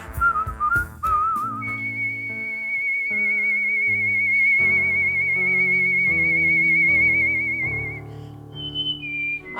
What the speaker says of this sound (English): whistlers compete in a preliminary round, performing one classical and one pop song